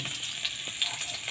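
Garlic sautéing in a pan for chicken pastil, a brief soft steady sizzle with a few faint crackles, close by and without voices.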